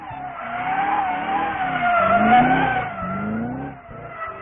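A 725-horsepower Shelby GT500 Super Snake engine roars loudly and steadily with a rising, gritty drone and some tire squeal mixed in, close and continuous with no talking.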